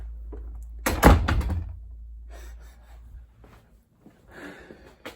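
A low, cramped door is pushed shut by hand in one loud, close thud near the start, followed by quieter rustling and handling noises.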